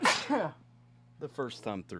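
A single sharp sneeze bursts out at the start, close and loud, followed by a brief pause and then people talking.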